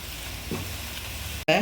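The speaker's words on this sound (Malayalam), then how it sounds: "ഇത്രയും ഐറ്റംസ് നല്ലപോലെ ഒന്ന് ചേർത്ത് ഈ പൊടികളുടെയൊക്കെ റോ സ്മെല്ലൊക്കെ ഒന്ന് മാറി വരണ വരെ നമുക്കിതൊന്ന് വഴറ്റി കൊടുക്കാം" Spice powders with garam masala sautéing in a pan for tomato rice, a steady soft sizzle with a brief stir, then a sharp cut to a louder burst of frying.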